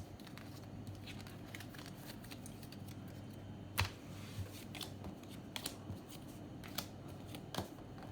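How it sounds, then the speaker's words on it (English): Players draw cards from their personal decks in the card game Abandon All Artichokes, producing quiet soft card slides and a few light snaps over a low, faint room hush. "Have each player draw 5 cards from their personal deck."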